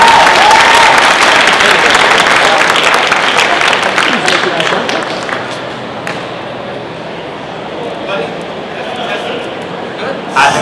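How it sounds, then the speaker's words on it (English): Convention audience at Comic Con Scotland cheering and clapping loudly for a guest taking the stage, a dense burst of applause that gradually thins and settles into lighter clapping. "How about an enormous cheer for the legend that is at the side of the stage for us now."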